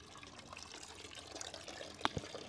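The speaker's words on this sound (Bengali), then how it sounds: "তো গাইস এখন করবো স্নান।" Water is poured during an outdoor rooftop bath on a sunny winter day, a faint, steady trickle and splash punctuated by a couple of sharper splashes near the end.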